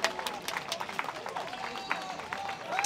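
Wedding guests applaud after the best man's speech, a lively scatter of many hands clapping under a loud hall ambience, with people talking and calling out at the same time.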